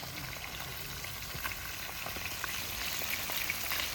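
Fish frying in oil with Scotch bonnet pepper and garlic in a pot over an outdoor forest cooking fire, a steady close crackling sizzle that holds even and grows slightly louder.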